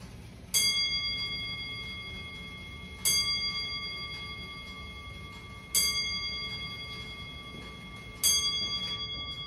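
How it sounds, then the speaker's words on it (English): An antique Frisian stoelklok wall clock from 1714 gives four evenly spaced, bright metallic strikes about two to three seconds apart, each ringing and slowly decaying, heard close up in a quiet room. "So I'm going to demo the clock for you all now."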